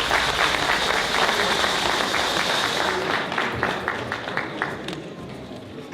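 A crowd applauds at a Yoruba induction ceremony welcoming a new member home, dense clapping that thins into scattered distinct claps toward the end, with faint voices underneath.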